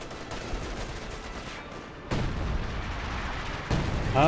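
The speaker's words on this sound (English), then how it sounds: "More major artillery. Gets a direct hit there." Artillery fire in the World War II strategy game Company of Heroes 2 booms in sharp, loud bursts, with two heavy impacts standing out against a rumbling battlefield backdrop.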